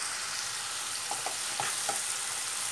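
Mushrooms fry in a pan as they are stirred, giving a steady broadband sizzle with a few soft scraping stir strokes in the middle, close and even, with no talking.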